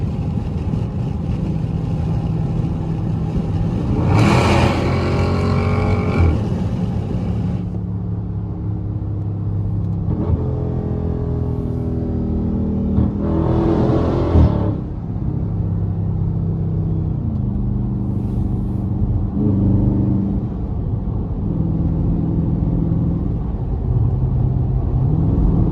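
A 500 hp Scat Pack car in sport mode accelerates hard through a highway tunnel, its engine heard from inside the cabin as a loud, booming rumble with rising revs across several gear changes.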